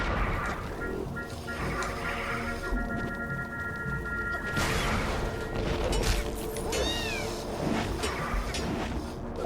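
A cartoon cat meows in The Swords of Ditto during a co-op dungeon run, its cries rising over busy game music and effects, with brief chirpy tones near the end.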